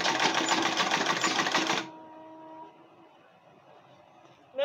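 A sewing machine stitches an Ankara fabric school bag in a steady, loud, rapid run lasting almost two seconds, then stops abruptly, leaving a faint hum and quiet room tone before a brief knock at the end.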